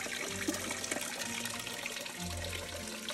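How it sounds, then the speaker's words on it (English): Water from a small pump-driven cauldron fountain splashes and trickles continuously into a filled basin, a close, steady babbling flow with no talk. "plug it in, and watch the water flow"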